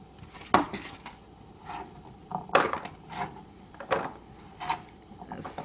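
A knife chops asparagus on a cutting board in a home kitchen: sharp, spaced clacks land roughly every half second to second, close and fairly crisp, with quiet pauses between strokes.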